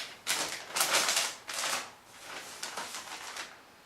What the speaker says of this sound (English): You put the plate down, fold the paper over.